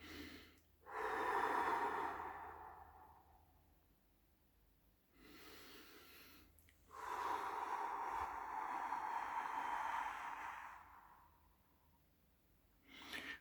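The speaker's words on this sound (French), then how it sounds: "on peut respirer un peu." Slow, deep breaths during a breathing exercise, two long airy exhalations and softer inhalations in between, close and quiet with no talking.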